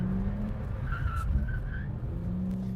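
A BMW E46 drifts through a turn, its engine droning loud and steady while a brief tire squeal rises mid-clip, all close by and without speech.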